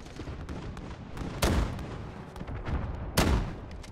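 Two loud, sharp shotgun blasts go off in the video game Modern Warfare, spaced well apart, each a heavy boom amid continuous background gunfire and game noise.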